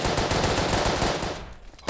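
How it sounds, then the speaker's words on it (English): Hotchkiss machine guns in the World War I video game Verdun, several firing together in loud, continuous rapid bursts that fade out near the end. "There are multiple Hotchkisses firing like madness."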